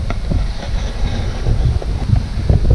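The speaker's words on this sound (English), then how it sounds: "Super windy." Strong wind buffets the microphone outdoors beside a sailboat on the water during a stormy spell, a constant loud low roar with gusty surges and no voices.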